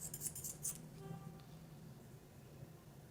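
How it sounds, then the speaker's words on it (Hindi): Scissors snip through a small lock of hair, a quick burst of several crisp metallic cuts at the start, then only quiet room tone. "उसने अपने थोड़े से बाल पकड़े यूं करके और चला दी कैंची"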